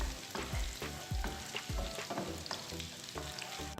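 Garlic and red chili sizzle in butter in a pan for sarson ka saag, a steady frying hiss broken by several sharp stirring scrapes, close and fairly loud with no talk.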